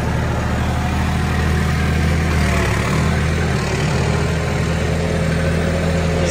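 A John Deere 5310 tractor with an upgraded engine labours under heavy load in a field, its loud, steady low diesel drone holding throughout with a slight sag as the revs drop.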